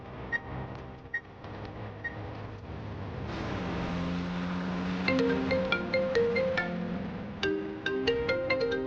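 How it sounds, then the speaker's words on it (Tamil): A phone ringtone in a Tamil TV serial scene, a bright repeating electronic melody of short tonal beeps that starts partway through over a steady background bed and keeps ringing to the end. "ஃபோன் வருது மாப்பிள."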